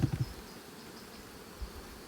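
Bees hum around an open beehive, a low, steady buzzing drone heard close with a few soft thumps near the start, and no talking.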